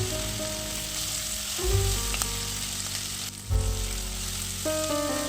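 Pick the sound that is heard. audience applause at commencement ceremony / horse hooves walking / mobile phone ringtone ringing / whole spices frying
whole spices frying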